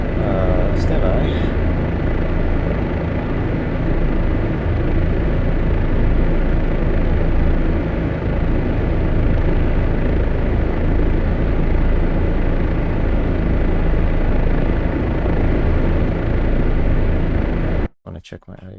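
An OH-58D Kiowa helicopter in DCS World flying with a steady, loud, continuous engine and rotor drone throughout, cutting off abruptly near the end.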